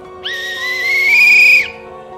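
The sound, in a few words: whistle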